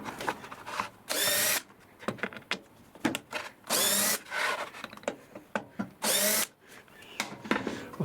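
A power drill backs three screws out of a wooden edge piece on a squirrel feeder, giving three loud whirring bursts of about half a second each, separated by quieter handling and scraping of wood.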